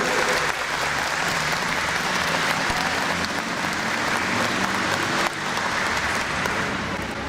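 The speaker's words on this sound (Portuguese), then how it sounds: "uma salva de palmas para todos eles" Large lecture audience gives sustained, steady applause, a thick unbroken roar of many hands clapping at once, loud and close throughout with only a slight dip partway.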